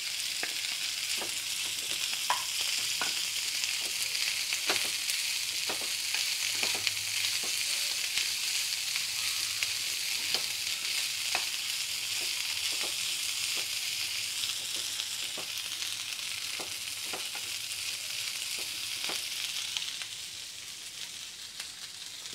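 Potatoes fry in hot oil with green chilies, a steady soft hiss with sparse pops and light stirring clicks, fairly quiet, easing off toward the end.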